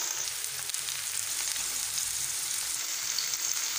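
Onion, capsicum and tomato fry in hot oil in a pan, giving a steady, close hiss and crackle of sizzling that runs evenly through the whole stretch with no voices.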